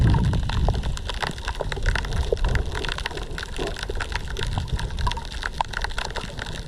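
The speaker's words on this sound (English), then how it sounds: "it seems that the sound can be largely attributed to the pistol shrimp" Pistol shrimp snap underwater near an island, producing a dense, continuous crackling like frying fat or steady rain, with countless sharp clicks layered over a low rushing wash throughout.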